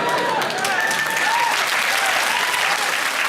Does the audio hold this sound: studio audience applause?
yes